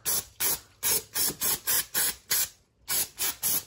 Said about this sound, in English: I got mine from O'Reilly's brake parts cleaner. Just go ahead and spray it liberally on here.